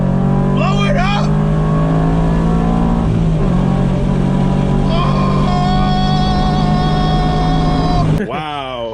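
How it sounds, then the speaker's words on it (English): A car engine revs hard and steadily at high pitch for about eight seconds, loud and close, then cuts out abruptly as a voice exclaims at the end. "Let's blow my motor up."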